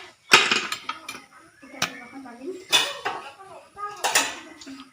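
Freshly popped popcorn is scooped from a pressure cooker onto a plate, with sharp metallic clatters and scrapes of utensil against pot in uneven bursts, while a person talks.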